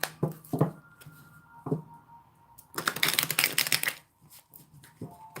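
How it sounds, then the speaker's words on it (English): Tarot cards being shuffled: several quick riffling bursts with a long dense flurry in the middle, close and fairly quiet, with no talking. "So let's shuffle."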